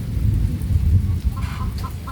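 Heavy rain falls in a steady, dense roar with a deep low rumble, loud and continuous, and a few faint clucks from fowl rise near the end.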